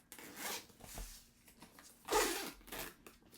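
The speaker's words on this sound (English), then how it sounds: "And it has this nice zipper around it." Close, quiet zipper pulls on a soft cushioned laptop case, with a couple of short rasping zips separated by brief pauses and a stronger zip near the end.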